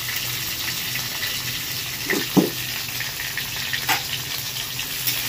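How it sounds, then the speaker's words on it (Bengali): Potato and green plantain fry in oil in a pan with black cumin seeds, giving a steady low sizzle with a few soft crackles and pops scattered through it. "আলু কলাটা কিছুটা ভেজে নিয়েছি, ঠিক এই সময় দিয়ে দেবো একটু কালো জিরে"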